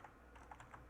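A computer keyboard is typed on quickly, with several light, crisp key taps in a short run. It is faint and close, with no voices.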